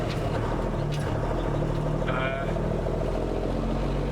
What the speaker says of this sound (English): there's something very satisfying about that huge 6-cylinder diesel engine. It's just got a lovely noise.